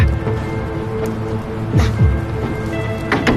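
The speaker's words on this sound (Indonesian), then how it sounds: "Dimana saat itu juga hujan pun turun, yang membuat ia panik," Rain falling in a film scene, a steady patter of drops on surfaces with a few sharper splashes and knocks, fairly loud and close, with no voices.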